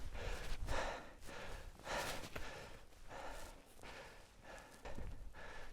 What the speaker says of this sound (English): Just get my heavy breathing.